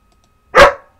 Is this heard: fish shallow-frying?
no